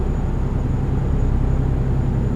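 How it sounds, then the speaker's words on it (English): A heavy truck cruising in American Truck Simulator gives a steady, smooth low roar with a faint high hiss from the turbo held constant across the whole stretch, with no speech. "the smooth hiss of the turbo"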